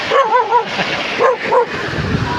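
A large dog barks in short bursts, two quick clusters of deep woofs close by, followed by a brief pause with faint background noise.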